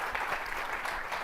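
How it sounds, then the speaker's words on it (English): Brief burst of continuous audience applause at a university state of diversity address, a dense wash of clapping throughout. "We have to give that a round of applause."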